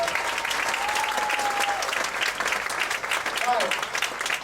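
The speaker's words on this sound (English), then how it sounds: "Come on stage, please give it applause." Audience applause welcoming a musician onto the stage at a Pecha Kucha talk night in Ubud, a dense steady wash of clapping lasting several seconds with faint voices mixed in.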